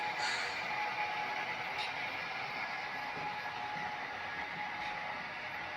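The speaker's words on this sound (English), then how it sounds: "got that same M and St. L train running" Steady low rumble and hum of an HO scale model train running continuously on a layout, fairly quiet, with faint clicks and rattles throughout.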